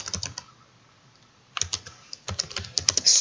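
Keys clatter on a computer keyboard as code is typed, with quick bursts of close, crisp keystrokes separated by a quiet pause in the middle, and no voices.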